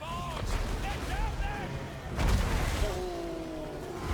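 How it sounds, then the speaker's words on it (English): Handgunners firing on a group of Chaos Marauders in a Warhammer multiplayer battle game, giving a few booming gunshot bursts amid a busy battlefield din with tonal game sounds and a talking voice. "we have a group of Chaos Marauders over there getting shot up by the 2 handgunners"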